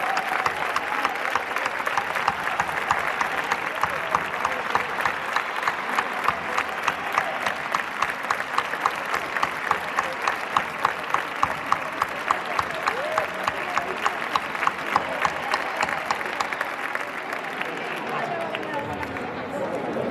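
Sustained audience applause at a secondary school graduation ceremony, dense steady clapping from a large crowd with faint chatter underneath, filling the hall for about twenty seconds.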